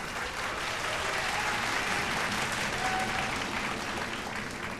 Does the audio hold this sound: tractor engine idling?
no